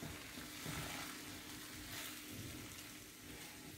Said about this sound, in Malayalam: ഒന്നുകൂടെ ശരിക്കും ഒന്ന് ഇളക്കി കൊടുക്കുക